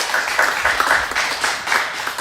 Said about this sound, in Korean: 격려의 박수 하시겠습니다.